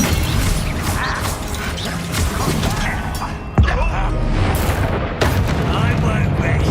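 Confringo spell explosions in the video game Hogwarts Legacy, sharp booms with crackling mechanical clatter amid dense battle noise, two strong blasts standing out, under a player's shouted spell calls.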